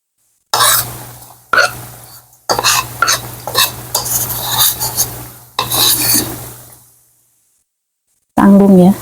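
Pecel batter fritters made with flour frying in a pan, with a utensil stirring and scraping: bursts of loud, rasping metal-on-pan scraping broken by short pauses over a low steady hum, then a long silence and a brief voice at the end.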